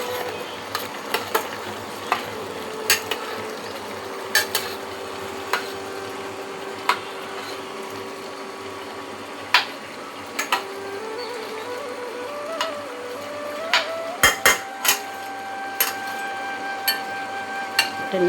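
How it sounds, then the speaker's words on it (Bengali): Stirring thor (banana stem) pulao in a pot after adding ground nutmeg and mace with ghee and whole spices: a steady low sizzle with repeated sharp scrapes and taps of a spoon against the pot, fairly close. "জায়ফল জয়িত্রী গুঁড়ো দিয়ে একটু নেড়ে দেবো।"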